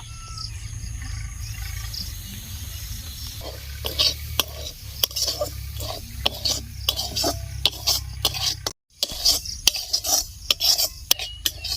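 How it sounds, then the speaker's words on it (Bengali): Semolina in hot white oil in a wok gives a steady low sizzle, then scraping and clinking stirring strokes take over, sharp and irregular, with a brief cutout near the end. "সুজি ভাজার জন্য কড়াইয়ে সাদা তেল দিয়েছি তেলটা গরম হয়ে গেছে এবার সুজিটা দিয়ে দিব"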